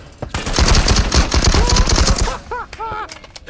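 Gunshots in the video game Marauders, a rapid, loud burst of close automatic fire lasting about two seconds, followed by short metallic clinks and ringing tones.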